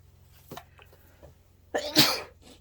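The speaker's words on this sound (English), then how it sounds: "I'm about to sneeze, so be prepared." A single loud, sharp sneeze near the end, preceded by a few faint breaths and small noises.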